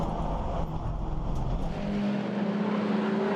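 Race cars at Croft circuit roar close by, a loud dense engine drone with a rising tone as one car pulls through, continuous and without talk.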